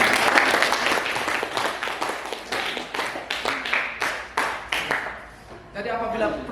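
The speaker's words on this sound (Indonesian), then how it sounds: "tepuk tangan untuk jawaban" A school class claps for an answer in a rhythmic, evenly spaced burst of group applause that fades out near the end.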